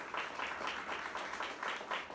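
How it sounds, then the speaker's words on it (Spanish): A church congregation claps in an even rhythm during a sermon, the sound soft and somewhat distant, about seven claps in quick succession. "Dale ese aplauso al Señor."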